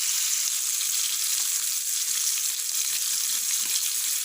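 Pieces of fish pan-grill in hot oil, giving a loud, even sizzle that holds steady and close throughout with no voices.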